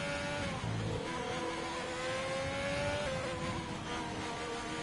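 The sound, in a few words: Ferrari race car engine through the S's at Suzuka, racing video game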